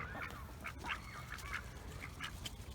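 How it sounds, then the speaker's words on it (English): Ducks quacking in a kale garden, several short quacks scattered irregularly at close range over a steady low outdoor background. "I put it right there, and the ducks came up and got me"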